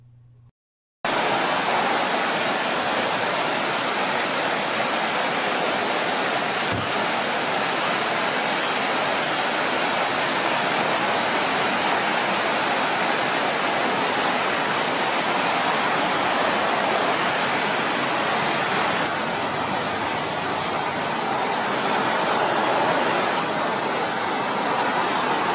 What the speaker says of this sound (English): we're going to stop off at a spot where we spotted a waterfall earlier and take some video